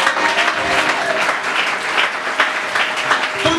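A church congregation applauds and acclaims the Lord, with dense, loud and sustained clapping throughout and crowd voices blended in.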